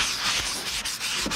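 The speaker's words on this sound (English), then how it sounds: "you just keep sanding it" Steady, continuous abrasive rasping of sandpaper worked back and forth across a skateboard deck, close and fairly loud, with a few brief dips in the stroke.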